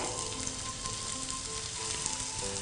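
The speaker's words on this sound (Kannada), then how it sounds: "ಈರುಳ್ಳಿ ಫ್ರೈ ಮಾಡ್ಕೊಳ್ಳೋಣ ಮೊದಲು. ಇದು ಎಣ್ಣೆ ಕಾದಿದೆ ಈಗ." Onions sizzle and crackle in hot oil in a home kitchen, a steady close frying hiss with no talking.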